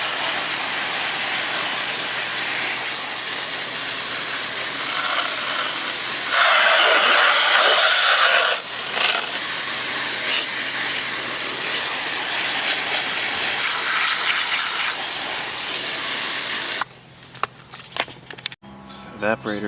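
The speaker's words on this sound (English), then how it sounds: "I'm going to do what I normally do, spray down on the evaporator coil like that" Steady hissing spray washes over the evaporator coil of a White Westinghouse 8,000 BTU window air conditioner, loud and continuous, then cuts off near the end, leaving a few soft knocks.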